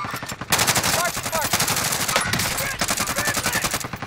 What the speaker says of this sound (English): Keep shooting at them.